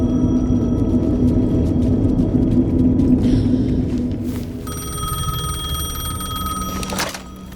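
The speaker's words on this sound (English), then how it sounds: "payphone was ringing." A payphone rings in Alan Wake 2, a loud electronic bell trilling steadily under a low ambient rumble that drops away partway through.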